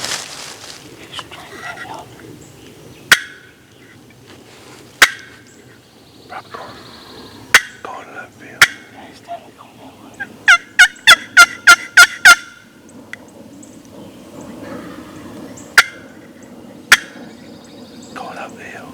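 Wild turkey gobbler in Florida hardwoods, gobbling a few times at distance, with a rapid run of sharp clucking calls near the middle and soft whispered voices in between.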